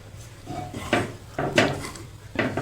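A spoon or spatula stirs and scrapes a pot of milk and ripe bananas cooking into banana barfi, giving intermittent clinks and scraping strokes, close and moderately quiet, with no talk.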